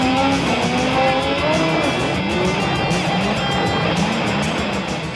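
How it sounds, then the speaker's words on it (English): Specially built pickup trucks race over the bumps and jumps of a stadium short track, engines roaring steadily with rising and falling revs and a crowd-like wash of noise throughout. "It's stadium racing. It's like motocross with pickup trucks."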